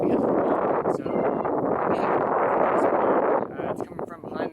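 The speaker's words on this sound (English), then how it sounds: "It's pretty windy." Strong outdoor wind buffets a camera microphone, a dense rumbling roar that holds steady for most of the time, then gusts and eases off unevenly near the end.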